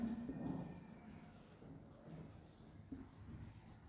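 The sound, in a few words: writing math by hand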